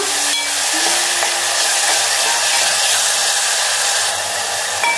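Tomatoes are being sautéed in a pan for a Marathi pavta bhaji, a loud continuous sizzle and hiss close up, with faint scraping stirs and a brief tone early on.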